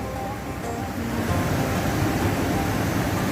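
A waterfall on the Berdan River in Tarsus, a dense, loud, continuous rushing roar that swells slightly and holds steady, with no voices heard.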